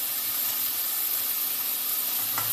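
Food frying in a pan with the heat turned down, an even hissing sizzle that holds steady throughout, close and moderately loud with no other sounds.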